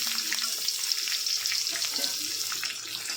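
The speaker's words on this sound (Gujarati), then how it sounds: "લસણ થોડું એ થઈ જાય એટલે તેમાં આપણે ડુંગળી નાખી દઈશું આ રીતે" Onion goes into garlic already frying in a pan for a bitter-gourd curry, giving a steady close sizzle and crackle of oil that runs through the whole stretch with no talking.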